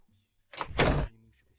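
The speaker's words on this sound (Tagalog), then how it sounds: "Pakisara na lang ang pinto para sa akin." Indoors, a door swings shut with a single short, muffled thud and a soft rattle, heard close by in an otherwise quiet room.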